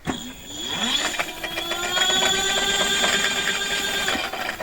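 An electric hub motor wheel spins up after being swapped in during a check of its Hall sensors, giving a rising whine with many stacked tonal lines that climbs over about a second, then holds a steady, fairly loud hum.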